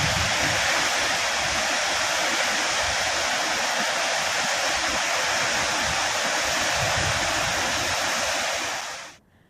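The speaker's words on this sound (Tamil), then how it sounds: "அங்குள்ள அருவிகளுக்கு நீர்வரத்து அதிகரித்துள்ளது" A waterfall swollen after heavy rain rushes steadily, a dense, loud, unbroken roar that holds for about nine seconds before cutting off abruptly.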